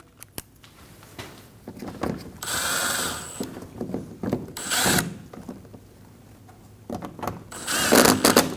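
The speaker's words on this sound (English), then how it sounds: "Install the screws up through the bumper. Get them nice and snug." Screws driven up through the front bumper cover of a 2012-2022 Volkswagen Passat, heard as close ratcheting and whirring power-driver bursts separated by quieter handling noises.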